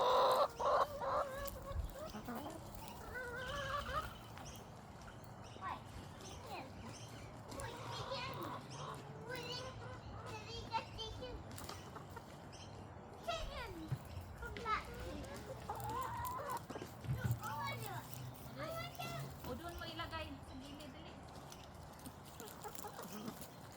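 Backyard chickens clucking and calling at feeding time, with scattered fowl sounds throughout, mixed with children and adults talking in the background.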